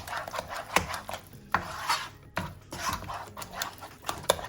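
A spoon stirs a thick mac and cheese mixture seasoned with salt in a bowl, giving repeated scraping and clinking strokes in an uneven rhythm, close and fairly quiet with no talking.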